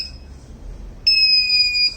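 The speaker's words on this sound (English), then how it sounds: "the output is given to the buzzer directly" After a second of faint hum, the buzzer on an RF-controlled metal detection robot gives one loud, steady, high-pitched electronic beep lasting just under a second.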